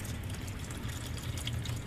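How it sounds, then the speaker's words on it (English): Used motor oil streams from a car's oil pan drain hole into a drain pan during an oil change, giving a low, steady gurgling pour that stays continuous and fairly quiet, with no voices over it. "See, here comes the oil, and there you go. So it's shooting out at the angle into the pan,"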